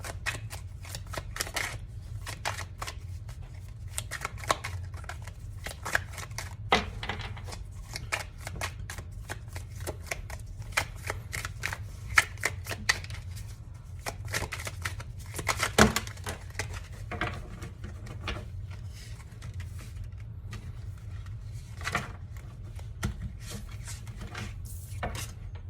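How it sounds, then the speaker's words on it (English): Continuous riffling and flicking of tarot cards being shuffled close by, a dense run of soft papery clicks with occasional sharper snaps. "I'm just going to keep shuffling until you guys have about 8 or 9 cards"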